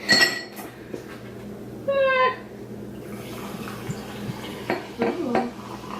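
A fizzy drink pours and fizzes over ice in a water glass, with ice clinking and a few glassy knocks, close and fairly quiet.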